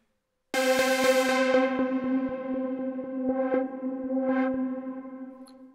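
A single sustained synth note from the u-he Hive synthesizer with a pulsing, buzzy tone sounds alone, its brightness gradually darkening as a low-pass filter closes down.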